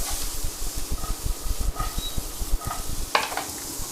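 Raw pumpkin dices fry in a pan alongside softening spaghetti, producing a close, uneven sizzle and hiss with irregular stirring and scraping knocks and a brief sharper clatter near the end.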